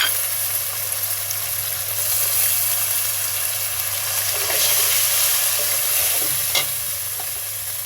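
Bay leaves, cumin, ginger and garlic sizzle loudly in hot oil for a duck curry, a dense continuous frying hiss with occasional stirring scrapes, close and steady with no speech.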